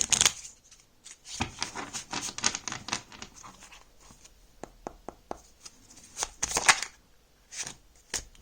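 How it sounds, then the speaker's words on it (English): Tarot cards are shuffled by hand at close range, producing quick crisp bursts of riffling and flicking card edges in irregular clusters separated by short pauses, with no talking over them. "I want to pull out one of these cards."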